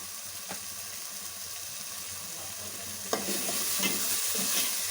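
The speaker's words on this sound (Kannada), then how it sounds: "ಟೊಮೆಟೊ ಹೀಗೆ ನಾನು ಸ್ವಲ್ಪ ಸಾಫ್ಟ್ ಆಗೋವರೆಗೂ ನಾನು ಬೇಯಿಸ್ಕೊಂಡೆ" Tomatoes with turmeric powder cook in a pan for masala idli, giving a steady close sizzle. A spoon scrapes and stirs through them, and a sharp clatter partway through is followed by louder frying.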